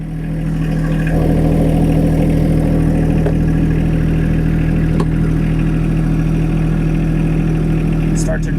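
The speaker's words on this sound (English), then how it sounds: "we can go ahead and turn our tractor back on," A John Deere tractor fitted with a 120R loader runs steadily, its loud, close mechanical drone and chugging engine continuing without a break as the tractor is put in gear and driven off.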